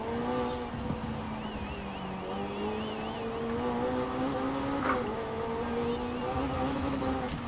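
McLaren 600LT supercar in the racing game Forza Horizon 4, engine droning steadily and climbing in pitch as it accelerates out of corners, loud and continuous, with faint tire noise.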